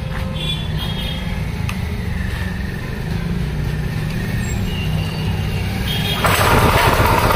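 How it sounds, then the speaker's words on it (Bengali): A power tiller engine in a farm machinery showroom, a steady rumbling idle that suddenly grows louder and rougher near the end as it revs up, heard close with no speech. "আমি এই মেশিনটা চালিয়ে দেখাবো"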